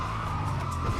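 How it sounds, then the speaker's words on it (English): Tires skidding in GTA 5 with the NVE Sounds add-on from Natural Vision Evolved: a sustained rubbery squeal layered over a droning car engine, steady and fairly loud throughout. "tire skids"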